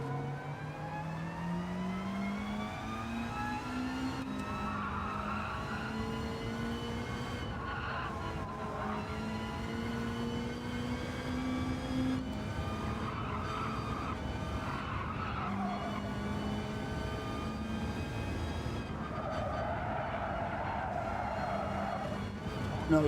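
Race cars in Gran Turismo 7 online lobby races, with engines droning and whining steadily through gear changes and some tire skidding, continuous and loud, while someone talks at times over the engine noise.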